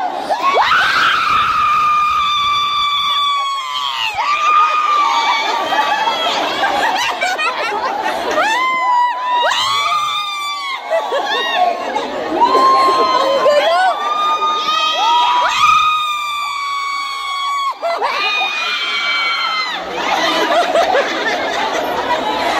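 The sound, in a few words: crowd screaming and cheering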